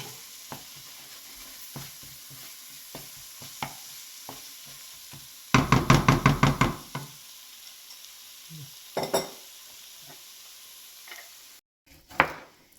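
A knife chops tomatoes on a board while chicken kosa cooks nearby. Steady, evenly spaced chopping taps are followed by a brief burst of louder, rapid knocks and a few scattered clicks, with no voices.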